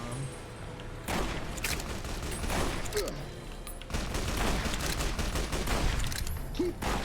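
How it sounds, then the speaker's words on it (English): Bombs dropped by Boomers in Fallout: New Vegas rain down as a dense, continuous barrage of explosions and gunfire, loud and sustained across the whole stretch with a brief lull before a second heavy burst. "The boomers fucking drop bombs on them"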